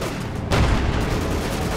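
A sudden loud burst of World War II battlefield gunfire in Company of Heroes 2 cuts in after a half-second, then a rumbling wash of shots carries on to the end.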